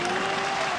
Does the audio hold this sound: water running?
no